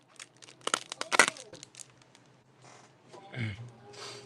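A foil-like trading card pack wrapper is torn open up close, sharp crinkling and ripping bursts at first, then quieter rustles and a brief scrape, with a person talking in between.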